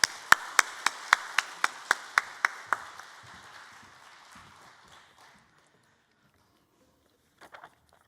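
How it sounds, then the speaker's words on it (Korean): Roughly ten sharp, evenly spaced claps ring out in a church Sunday service to encourage the pastor, then a soft fading patter gives way to near silence with a brief rustle at the end. "우리 큰 박수로 한번 격려해 주시겠습니다"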